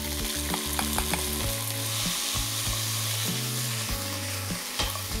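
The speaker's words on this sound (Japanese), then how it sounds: "ニンニクの香りが強くなってきたらもやし入れます。" Bean sprouts hiss and crackle as they stir-fry in hot garlic oil in a pan, a loud, continuous sizzle with intermittent scraping and tossing from the stirring.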